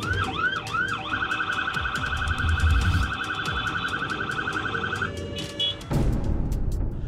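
A loud Brazilian federal highway police car siren wails in rapid, warbling cycles over steady traffic rumble, cutting off abruptly near the end before engine noise takes over.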